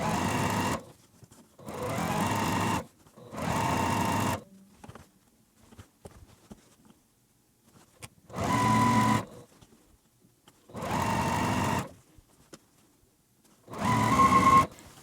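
A home sewing machine chain pieces quilt rows for a beginner layer cake quilt, running in six steady bursts of about a second each, separated by short quiet pauses, close and clear with no talking.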